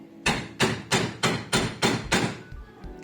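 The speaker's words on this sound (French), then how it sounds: "le marteau frappe quelque chose et que cet objet frappe le bouchon" A hammer strikes a wooden wedge to drive a cap into a cut handle, seven sharp, evenly spaced knocks about every third of a second, loud and close, followed by two softer taps.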